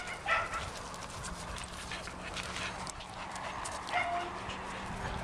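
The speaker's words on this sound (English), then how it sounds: "we've got Caper inside the house barking up a storm because he wants to be out here" A dog barks a few times from some distance, faint against steady outdoor background noise.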